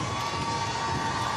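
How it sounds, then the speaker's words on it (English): A home crowd roars without a break at a women's college basketball game, USC against UCLA. The cheering and shouting are loud, dense and sustained throughout, with no single voice standing out. "the crowd's jumping. It has not been quiet once."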